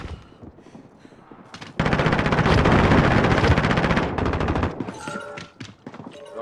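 Sustained automatic gunfire in Call of Duty: Modern Warfare erupts loud and dense for about three seconds, with scattered shots and thuds before and after.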